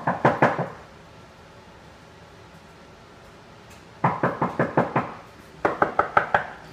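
Knuckles rap on a door in three separate bursts of quick knocks, three to six sharp raps each, loud and close, with quiet gaps between and no talking over them.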